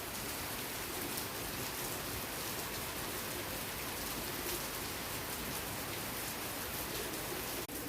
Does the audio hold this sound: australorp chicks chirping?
no